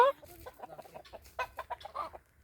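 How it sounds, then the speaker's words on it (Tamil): A domestic hen clucks in a quick run of short, close calls after being called, with faint background noise. "Bobo? நம்ம பொப்போன்னு சொன்னோம்னா அப்படியே இங்கே சவுண்டு கொடுப்பாங்க"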